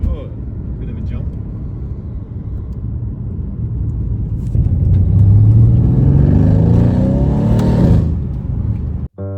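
A Mercedes C63 AMG accelerating hard, heard from inside the cabin as a loud sustained engine roar that climbs in pitch through a gear before a sudden cut, with voices mixed in.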